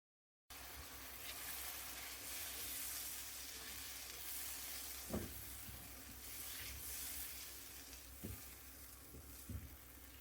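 Seekh kebabs frying in about 100 grams of hot oil in a karahi, a steady close hiss of sizzling broken by a few brief clinks around the pan.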